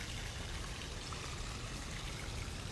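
Water spills steadily down a backyard pond waterfall, a constant broadband rushing and splashing with no pauses.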